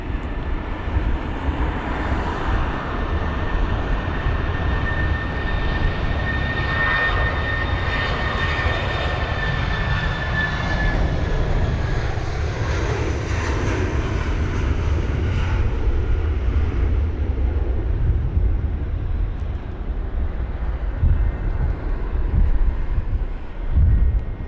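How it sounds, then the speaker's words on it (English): Airbus A319 jet engines spool up on the runway for takeoff in a storm, a loud, steady roar with rising whine that holds continuously under gusty wind noise. "It's spooling up now. the Airbus"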